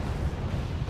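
Naval guns aboard a Lafayette frigate fire in the Wargame: Mediterranean Thunder video game, a dense, low rumbling boom that sustains through the whole short moment without any talk.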